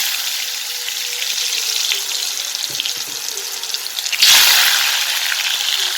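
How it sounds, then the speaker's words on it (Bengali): Pieces of ash gourd coated in salt and turmeric fry in hot oil with a steady, close hiss that jumps louder and harsher as more pieces hit the pan near the end. "এই যে পানি কুমড়াটা আগে ভাজি"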